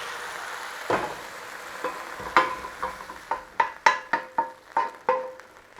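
Beef searing in an Instant Pot liner gives a low sizzle under a run of sharp metallic clanks and scrapes that quicken toward the end, close-up, with no talking.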